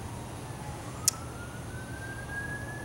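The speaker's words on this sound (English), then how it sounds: "Yeah, there's the sirens." A siren wails faintly in the distance with a slow, steady rising tone, heard over a constant low hum from a running air conditioner.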